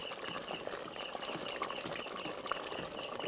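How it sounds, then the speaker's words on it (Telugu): A pot of tamarind soup bubbling at a steady boil on the stove, a constant soft wash of simmering and popping with no one speaking over it. "కొంచెం బాగా మరుగుతుంది."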